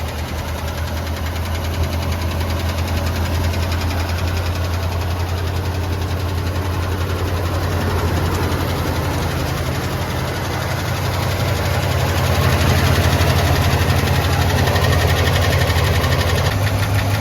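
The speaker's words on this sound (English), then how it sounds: "Sounds like a loose lifter or something like that to me." A Buick Riviera engine idles steadily with a light, rapid lifter tick running through its low hum, close and continuous, the tone swelling slightly near the end.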